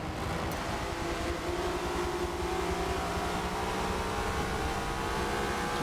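A Volvo S60 touring car in an STCC race at Hockenheim, from a racing video game, held as a steady, loud engine drone with a rushing noise over it. It runs continuously, with no voices.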